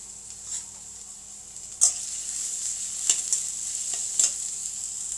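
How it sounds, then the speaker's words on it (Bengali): Onions and green chilies fry in oil in a wok with a steady close sizzle, broken by a few sharp scrapes of stirring and no talking. "প্রথমে কড়াইতে তেল দিয়ে দিলাম, এখন দিয়ে দিব কিছুটা পেঁয়াজ, আর পেঁয়াজটাকে একটু লাল লাল করে ভেজে নিব"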